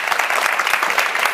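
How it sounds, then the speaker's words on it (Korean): A lecture audience at a college talk on the conditions for success claps steadily, a dense, close, continuous patter of many hands throughout. "여러분 다시 한번 큰 박수 부탁드립니다"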